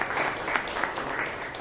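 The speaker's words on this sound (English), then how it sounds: "Big round of applause to our timer" Short, steady applause from members at a Toastmasters club meeting in Bangalore, with many hands clapping together at an even level.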